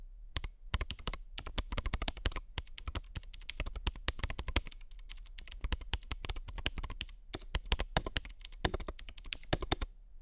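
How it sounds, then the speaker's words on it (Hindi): Rapid, steady clacking of a stock Cosmic Byte CB-GK-16 Firefly mechanical gaming keyboard being typed on up close, with brief pauses between bursts of keystrokes. "इस स्टॉक जो कीबोर्ड है उसका साउंड जरा सुन के देखो"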